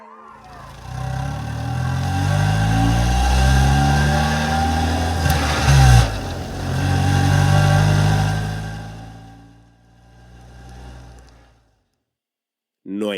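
A getaway car drives off after a bombing in Madrid, its mid-pitched engine rumbling loudly as it accelerates, rising and falling in pitch, then fading away into near silence.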